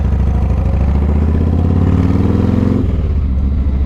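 Yamaha Roadstar 1700cc cruiser motorcycle V-twin idling loud and close, a deep rhythmic lumpy throb that rises briefly in pitch before dropping back to a lower idle.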